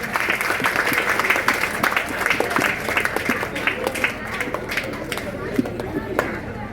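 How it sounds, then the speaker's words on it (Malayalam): An audience at a high school event applauds students for their tenth-grade results, with dense steady clapping throughout and a voice speaking over it. "വിദ്യാർത്ഥികളെ കൈയടിച്ച് പ്രോത്സാഹിപ്പിക്കണം"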